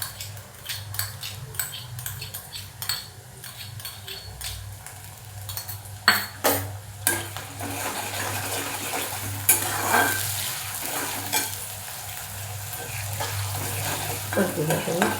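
Masoor dal stirred with sautéed onions in a hot pan, a steady sizzle and frying hiss under repeated scrapes and clinks of a spoon against the metal, close and continuous.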